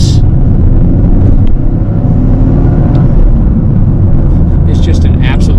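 A Toyota GR Corolla hot hatch drones and rumbles steadily from inside while on the move, its engine and road noise sitting loud and constant beneath someone talking throughout.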